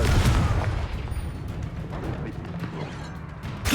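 Spell explosions and combat impacts boom in a Hogwarts Legacy duel, with a loud rumbling blast at the start that fades into a churning low roar and scattered hits.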